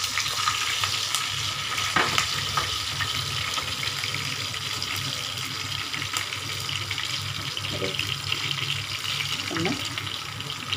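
Curry leaves and green chillies sizzle in hot oil, a steady close crackling hiss that runs the whole length with a few sharper pops and light stirring sounds, no talk over it.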